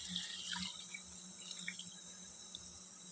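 Ground roasted gram mixed with water is poured into a pot, giving a steady, soft wet trickle and splash that runs evenly throughout, fairly quiet and close by with no voices.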